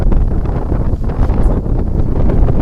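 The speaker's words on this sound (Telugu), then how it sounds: "గాలి మాత్రం చక్కగా చల్లగా వేస్తుంది బాస్" Strong wind gusts buffet the microphone beside the Godavari river, a loud, rumbling roar that swells and dips without pause and carries no voices.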